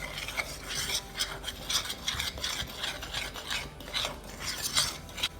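Peach and almond cobbler batter with three tablespoons of coconut being stirred steadily, a rhythmic scraping and rubbing of spoon against bowl repeating without pause, close and clear with no talking.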